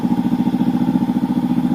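A 2019 Honda CB500X motorcycle engine idles steadily in cold winter conditions while warming up, giving a close, even, throbbing low rumble with a fast regular pulse and no talk.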